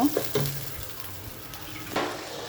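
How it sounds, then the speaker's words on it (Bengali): Chicken meat goes into a pan of frying rice for biryani, a few pan knocks and scrapes at the start, then a steady sizzle with stirring and another clatter, with no voices. "আমার ভাজা ভাজা হয়ে গেছে চালটা এবার মাংসটা দিয়ে দিব"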